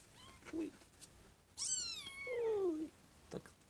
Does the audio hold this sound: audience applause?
no